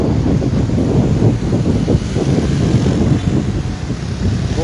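Sea waves surging onto the seafront boulevard shore in Libreville, Gabon, a loud continuous roar of surf heavily mixed with wind buffeting the microphone.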